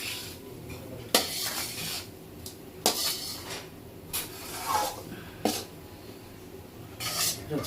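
Ingredients for adadiya pak being mixed in a pan in a home kitchen: scraping and clinking of a spoon against metal in irregular bursts, moderately close, over a quiet room hum.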